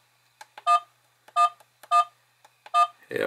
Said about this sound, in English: Beep sound, gotta turn that off straight away, that's so annoying.